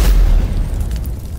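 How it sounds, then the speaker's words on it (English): Flashover fire explosion inside a casino at the MGM Grand, blasting the doors off: a deep, heavy boom with a loud low rumble at the start that slowly decays, with no voices. "The explosion from the flashover blasted off the doors to the casino entirely"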